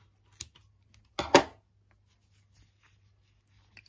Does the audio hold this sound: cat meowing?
no